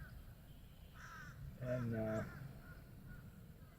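Crows cawing over a swamp river where a stream of crows and blackbirds flies past, a loud cluster of harsh calls rising briefly over steady background noise, with a faint voice speaking.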